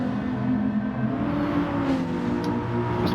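A Bugatti race car engine in a racing video game holds a loud, steady, full-throated howl under power, droning continuously at close range throughout.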